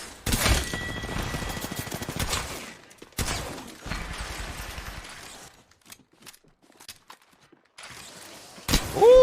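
Gunfire in the video game Apex Legends comes in sharp bursts of rapid shots separated by brief lulls, fairly close and loud, mixed with some mechanical clicks.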